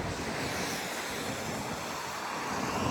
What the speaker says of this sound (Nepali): एकदम ठुलो हावाहुरी चलिरहेछ आज त पानी पनि परिरहेछ